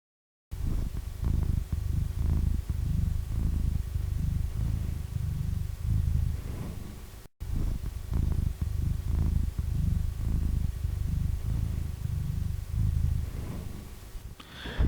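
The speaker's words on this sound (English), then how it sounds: "This section began with the sound of one of my cats purring" A house cat purring close up, a steady rhythmic low rumble that rises and falls with each breath and continues alone throughout, with one brief break partway through.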